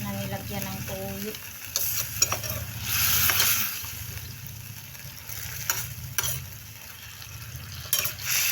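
Sweet potato leaves sautéed with soy sauce in a pan give a steady, close sizzle, broken by scraping stirring strokes and a few sharp utensil clicks.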